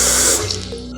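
Water pours steadily into a container over dried red chili, ginger and grains of Selim, a close, continuous splashing flow that tapers off toward the end.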